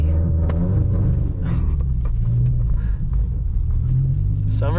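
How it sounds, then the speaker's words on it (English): A car slides around a snowy parking lot on summer tires, its engine giving a heavy low rumble and drone that rises and falls gently throughout, close and loud, with a little faint scraping on top. "We can just go for a little skid around the parking lot if you don't mind."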